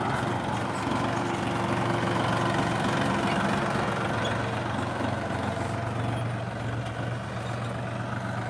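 A heavy tractor engine idles and rumbles steadily throughout, a low mechanical drone with a faint knocking texture, close by and constant, during night ploughing.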